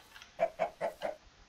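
A Minecraft chicken gives four quick, soft clucks in even succession, close and clear against a quiet background.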